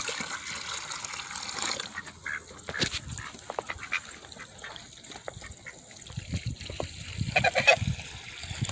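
Geese and ducks honk and call irregularly nearby while feeding and drinking from bowls outdoors in the rain, with splashing water beneath the bird calls.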